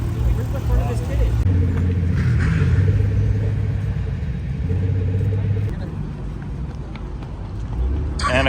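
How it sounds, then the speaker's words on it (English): A Porsche 997 GT3 RS heard from inside as it drives, a low engine rumble and road noise rising and easing through shifts, with people talking over it. "Right now we're in the 997 GT3 RS, the .2."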